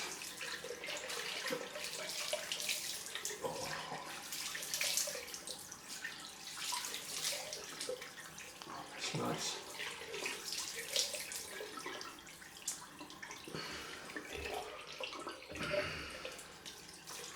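Cold tap water runs into a bathroom sink for a post-shave rinse, a steady close splashing stream with brief clatters and a short spoken remark.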